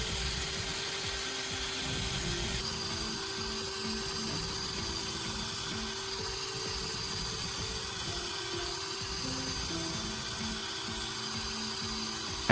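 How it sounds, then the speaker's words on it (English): Drill-mounted sharpening attachment grinding a metal blade edge on abrasive grits from coarse P120 up to P400, giving a steady loud whirring grind that runs continuously with no voices. "The goal is to gradually remove metal and create a new sharp edge, moving from the coarse P120, then the P240, and finally the P400"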